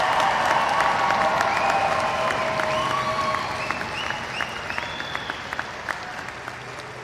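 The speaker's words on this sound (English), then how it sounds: "Let's give our graduates a final round of applause." Audience applause for graduates at the University of Houston-Victoria fall commencement ceremony, a dense, sustained clapping from a large crowd that fills the hall and slowly thins toward the end, with scattered cheers over it.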